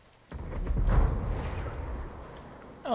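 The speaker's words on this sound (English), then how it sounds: "Another explosion." A distant explosion in the Ghost Recon video game rumbles as a deep, sustained boom lasting a couple of seconds, moderately loud, then fades before a brief sharper noise at the end.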